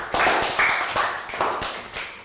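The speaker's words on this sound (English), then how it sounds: "Round of applause for Pat." A Year 3 English class claps for a student, a few short bursts of clapping from a small group in a classroom, close and fairly loud.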